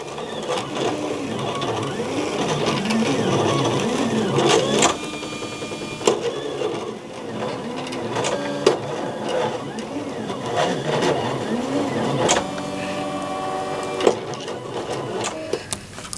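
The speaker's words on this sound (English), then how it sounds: "I'm going to start by loading my vinyl into the cutter and sending my design to cut." A Silhouette CAMEO cutter slices a glitter heat-transfer vinyl design, giving a steady mechanical whirring and buzzing with shifting motor tones, occasional clicks and brief pauses as the blade carriage moves, fairly close and continuous throughout.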